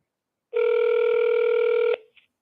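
Outgoing phone call ringback, a single steady electronic tone lasting about a second and a half, clear and close, followed by a tiny blip and silence.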